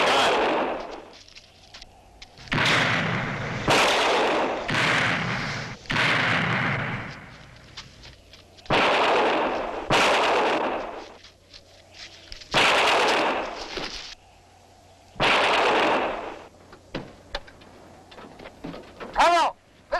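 Gunfire in a 1976 thriller film set near a desert mine, a series of loud, sharp shots and bursts spread across the scene with brief gaps between them, some echoing, over a faint low hum.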